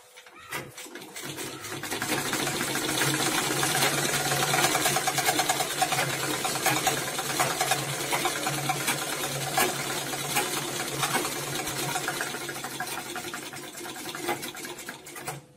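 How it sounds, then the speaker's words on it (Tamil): A sewing machine stitches a pair of gents' pants, running in a continuous fast mechanical whir close by for the whole stretch after a brief quiet start. "படிமான தையல் ஒன்று போட்டுக்கணும்."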